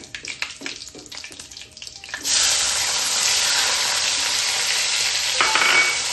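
Chopped tomatoes drop into hot oil with spluttering cumin for a sprouted moong curry. After a couple of seconds of light clatter, a loud, steady sizzle bursts up and holds close, with no talking.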